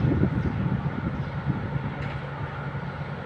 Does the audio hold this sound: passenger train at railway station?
yes